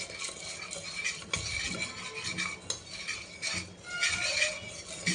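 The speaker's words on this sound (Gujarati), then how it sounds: "એને બરાબર આપણે તેલની અંદર મિક્સ કરવાના છે" Spoon stirring raw mung beans through oil in a pan to make popcorn, a steady scraping and clinking of utensil against metal with grainy rattles, continuous and close for several seconds.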